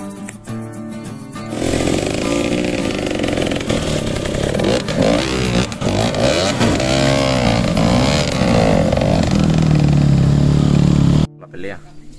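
An enduro motorcycle engine starts up and revs loudly and unevenly nearby, with rising and falling pitch, before cutting off abruptly at the end.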